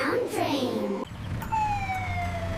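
A police car siren sound effect wails in a falling, sweeping tone, starting loud with a harsh cycling pattern, briefly breaking off, then resuming as a cleaner descending wail.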